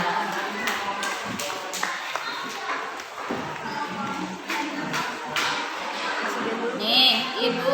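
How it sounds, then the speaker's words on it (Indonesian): A group of children claps in a classroom in scattered, uneven bursts, with a couple of brief flurries of hand claps mixed into steady children's chatter and voices throughout. "Tepuk tangan dong untuk semuanya."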